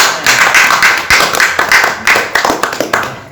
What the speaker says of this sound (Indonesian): Kita beri tepuk tangan yang meriah buat Numeron.